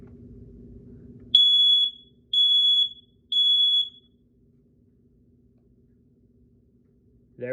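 Three loud, shrill beeps from a First Alert SA710 photoelectric smoke alarm being tested ring out in an even rhythm, each about half a second long, followed by quiet.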